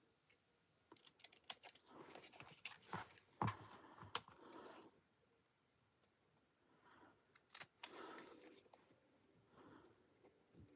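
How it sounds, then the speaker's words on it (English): Small scissors snipping through paper in quick irregular bursts of crisp cuts, close and fairly quiet, with short pauses between runs. "try and cut in a straight line with my scissors"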